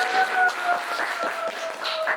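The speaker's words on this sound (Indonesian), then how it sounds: "Tepuk tangan dulu dong buat Jessica" A small group claps for Jessica, a karate championship runner-up, in a brief, steady patter of applause that continues throughout.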